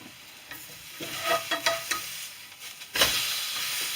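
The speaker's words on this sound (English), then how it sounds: "I can flip this brisket and make sure that it's cooked on the bottom" Corned beef brisket searing in a hot pan, a loud sizzle that swells and crackles with stirring and scraping as the meat is turned, close and continuous with no one talking.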